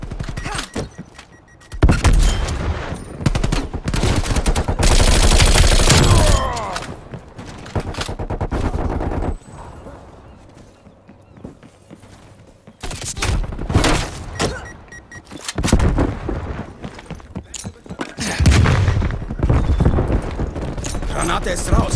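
Gunfire and a grenade blast in Call of Duty Black Ops Cold War, with loud bursts of rapid shots and heavy impacts coming in waves, separated by quieter stretches, while someone speaks over the fighting.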